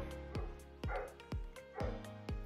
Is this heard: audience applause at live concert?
no